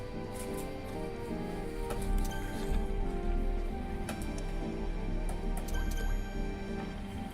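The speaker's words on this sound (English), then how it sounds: "Let's dilute a lighter orange color with 2 drops of water now." Two drops of water fall onto paint in the Art Academy video game, giving soft, faint drips and wet squishes over a quiet, steady hum of background music.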